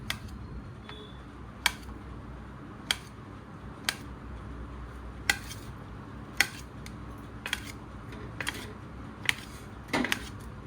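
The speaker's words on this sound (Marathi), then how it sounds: "हे चाकू आहे, हे पहिलं असं बारीक बारीक स्लाइस करून घ्यायचं" A kitchen knife cuts something into thin slices, making crisp, isolated clicks and taps on a board about once a second. The cuts are close but fairly quiet over a low background murmur, with no talking.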